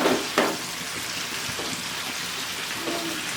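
Brinjal and valor beans cook in a small amount of oil, giving a steady, close crackling sizzle with a few sharper spatters and stirring scrapes early on.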